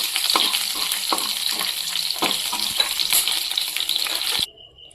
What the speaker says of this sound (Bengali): লাল বাদামটাকে আমরা ভালো করে ভেজে নেবো, লাল লাল করে।